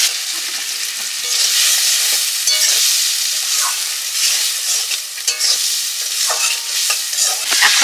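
Potatoes frying in masala in a pan, a loud, dense sizzle with continuous scraping stirs close up, steady throughout and without speech.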